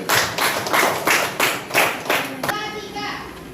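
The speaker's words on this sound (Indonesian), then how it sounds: "tepuk tangan dulu sekali lagi" Children in an elementary school classroom clap their hands together in about seven rhythmic bursts, loud and close, before the clapping stops and a voice starts speaking.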